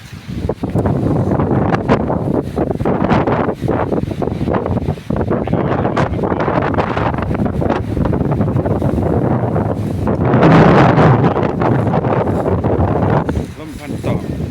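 Wind gusting across an open rice field, loud buffeting against the microphone that surges and eases in waves, with a stronger gust near the end and a voice speaking now and then.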